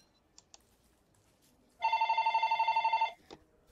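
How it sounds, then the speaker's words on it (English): An in-game telephone in Don't Starve Together rings once, a single sustained electronic trill lasting just over a second, preceded by a couple of faint clicks and followed by a short soft blip. "Did the phone only ring that once?"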